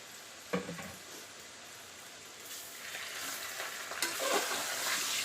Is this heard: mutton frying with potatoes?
yes